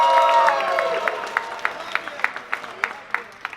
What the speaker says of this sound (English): give a round of applause for Thanos